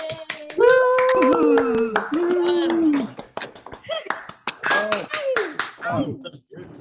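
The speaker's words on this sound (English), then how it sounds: "give a little clap for that round of awards" On a video call for an awards ceremony, participants give a few scattered, sparse claps through laptop microphones, mixed with talking voices and a brief cheer from someone.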